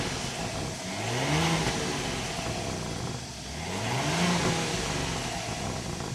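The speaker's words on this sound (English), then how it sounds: "we should go inside and start it up so you can hear that exhaust note." A 2025 Audi Q8 Premium Plus starts up and revs, its engine and exhaust rising in two swelling pulls over a steady idle, close and loud with no talk.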